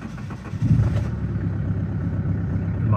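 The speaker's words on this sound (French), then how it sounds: "je vais démarrer la voiture" A car engine cranks and catches, then settles into a steady low idle that runs on, loud and close, with no talk over it.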